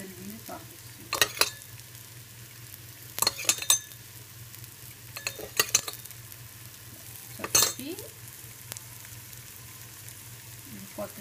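Besan cheela, a chickpea flour crepe, sizzles steadily in oil in a pan, with a low hum running underneath and several sharp scraping or clinking bursts from a utensil spaced through the frying.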